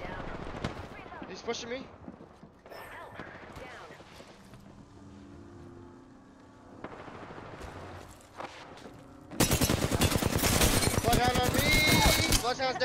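Automatic gunfire bursts from an Apex Legends ranked 3v3 Arenas match, scattered and moderate at first under a player's voice and game sounds, then erupting into loud, sustained rapid fire over the final few seconds.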